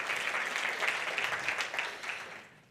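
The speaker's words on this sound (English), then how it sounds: "Round of applause for them." A keynote audience at a people-and-AI tech conference applauds the company's people team in a dense, steady burst of clapping that fades toward the end, with no talking over it.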